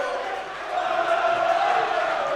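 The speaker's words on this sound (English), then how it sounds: "Crowd on their feet." A college basketball crowd at a conference tournament quarterfinal rises into loud, sustained cheering that swells midway through, filling the space with a bright roar.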